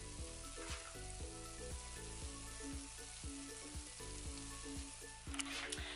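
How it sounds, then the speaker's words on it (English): Banana pancakes fry in a pan of oil, giving a constant soft sizzle with repeated rhythmic scraping or stirring strokes against the pan, fairly quiet and without voices. "That's the banana pancake,"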